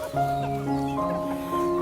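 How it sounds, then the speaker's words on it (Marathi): A chicken on a family farm gives short, close clucks with a rooster-like tonal quality, over a faint background hum. "ह्या कोंबडीचं नाव, ह्या कोंबडीला काय म्हणतात काहीतरी हा प्रकार आहे."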